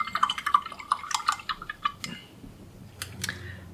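A paintbrush swishes and taps in a water cup between acrylic gouache strokes, a series of short close drips and light glassy clinks, then quieter rinsing.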